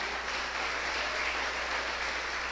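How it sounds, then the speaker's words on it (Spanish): Church congregation applauding during a Sunday morning service, a steady dense wash of clapping filling the room for a couple of seconds with no voices over it. "Fuerte, fuerte ese aplauso para Cristo Jesús."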